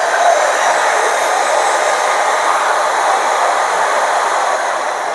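Dongcheng DSM08-100 angle grinder whirring steadily right after being switched on, a loud, constant broadband whine close by with no load and no voices.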